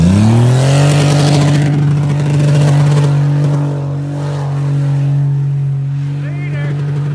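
An old Buick LeSabre engine idles with a deep, steady rumble close by, revving briefly at the start, while people talk over it.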